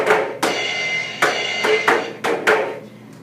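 Drum set side of a Music Jam electronic playmat, six sharp electronic drum hits in uneven rhythm with bright cymbal-like tails, close and fairly loud with no talking.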